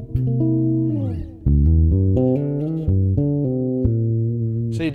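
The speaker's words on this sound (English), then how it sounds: "what would it sound like on a dominant chord?" Bass guitar plays a sliding melodic line outlining a dominant chord with major third and flat seven, a steady run of sustained notes heard alone without talk.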